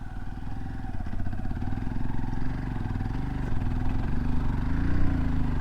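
A 2025 Honda XR150L dual sport motorcycle riding through a sand pit, its single-cylinder engine chugging steadily and close, rising slightly in pitch and loudness as it builds momentum.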